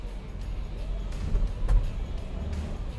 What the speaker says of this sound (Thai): แล้วเสียงเครื่องยนต์ดีเซลนะครับ เสียงเขาก็ไม่ได้ดังจนเกินไปด้วยนะครับ